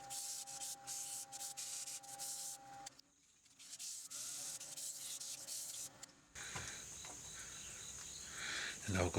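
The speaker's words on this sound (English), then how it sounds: "Start sanding. So I'll do 180 grit forward and reverse, and then 240 grit reverse and forward." A small cherry wood bowl sanded on a lathe with 180 and then 240 grit, a close, steady raspy rubbing over the spinning lathe's hum, briefly pausing and resuming with a harsher, louder scrape near the end.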